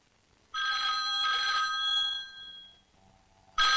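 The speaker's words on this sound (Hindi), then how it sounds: "phone phone" A telephone rings loudly indoors in repeated bright bursts with short pauses between them, the ringing alone with no voices.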